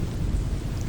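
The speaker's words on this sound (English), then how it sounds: "It wasn't a heavy rain, but coupled with the strong wind, it made things even more tiring for Barbara." Rain driven by strong wind, a dense steady hiss with low rumbling gusts, even and continuous throughout.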